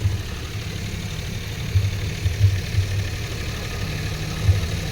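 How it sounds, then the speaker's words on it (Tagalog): A Suzuki DA64W turbo engine idles steadily at about 1,500 rpm with a low, even rumble and occasional soft knocks, heard close with no talking. "umandar na ang makina natin ngayon"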